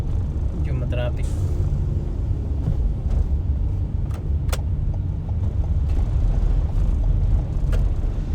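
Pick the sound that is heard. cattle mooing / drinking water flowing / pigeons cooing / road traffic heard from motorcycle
road traffic heard from motorcycle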